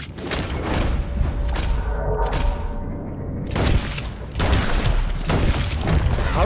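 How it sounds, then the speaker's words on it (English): Gunfire in Red Dead Redemption 2: bursts of shots and heavy booms crowd together in dense, loud volleys, broken by a short quieter lull partway through, with a little game chatter under the noise. "I think I'm gonna just shoot them all."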